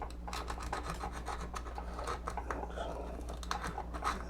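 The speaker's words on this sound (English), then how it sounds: "So just make a little loop with the sandpaper, just go around and work off the rough edges inside and out." Sandpaper folded into a small loop rubs around the rough inside and outside edges of a Halloween animatronic part during a repair, giving steady close rasping strokes that repeat throughout with no talking.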